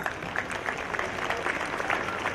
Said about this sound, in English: I guess we should clap for them first